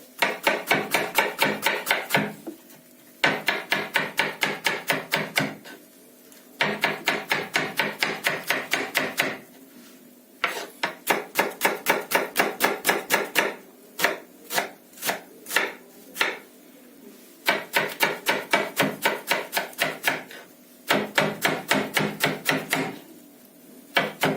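An onion is chopped finely with a knife on a board in a home kitchen, in quick, steady runs of crisp, close knocks separated by short pauses, with no talking.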